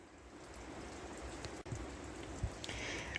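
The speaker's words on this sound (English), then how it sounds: "it's just sprinkling now" Light rain patters in a steady, faint wash of tiny drops, with a few slightly louder ticks nearby.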